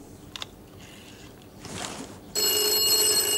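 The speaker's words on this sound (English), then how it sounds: "And it's ringing in the studio." An old-style telephone bell rings loudly and continuously in a studio after a few faint clicks and rustles, with no talking.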